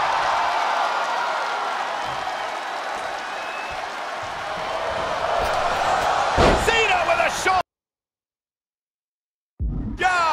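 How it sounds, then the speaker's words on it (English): A loud, steady crowd roar fills a WWE 2K22 wrestling video game match, with a heavy slam and a commentator talking over it before it briefly cuts out. "The sound of this crowd is deafening"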